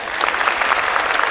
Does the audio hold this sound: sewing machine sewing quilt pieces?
no